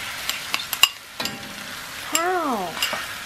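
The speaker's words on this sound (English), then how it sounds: "we're gonna stir it until it absorbs all the juices and it looks a little dry" Pad Thai noodles with broccoli stirred and frying in a pan, with soft scraping clicks followed by a sustained sizzle, close and fairly loud, while a voice speaks briefly.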